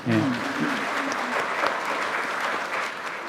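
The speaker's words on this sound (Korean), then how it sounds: "박수 한번 보내주시죠" Audience applause at a National Assembly policy forum on firefighters' transition to national civil service, a dense steady patter of many hands clapping throughout, fairly loud and even.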